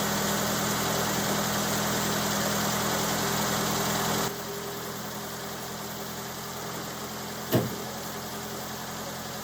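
A 1929 Ford Model A Roadster pickup engine idles steadily with a rough, throbbing mechanical rumble, close and loud at first, then slightly quieter, with one sharp knock or clunk late on and no talk.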